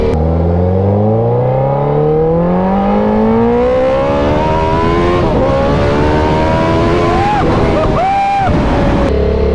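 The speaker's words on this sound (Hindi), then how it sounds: "ये थी हायाबुसा की आवाज़," A Suzuki Hayabusa motorcycle engine revs up hard, its pitch climbing steadily through the gears, loud and close, then drops and blips briefly near the end.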